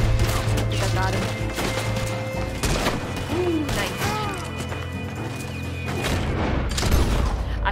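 Sniper rifle fire amid a shootout in Red Dead Redemption 2, booming shots and heavy thumps over a busy mix with horse-like sounds and other game noise.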